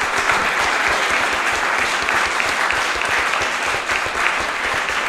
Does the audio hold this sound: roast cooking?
no